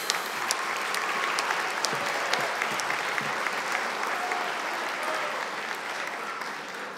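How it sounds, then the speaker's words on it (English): A graduation audience applauds a group of newly graduated health program students, with dense, steady clapping that fills the whole stretch at an even loudness and never lets up. "A big round of applause for this fun group."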